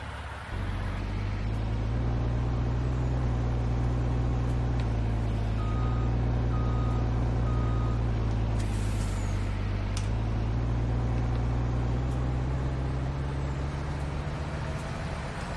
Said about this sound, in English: Let's get our new truck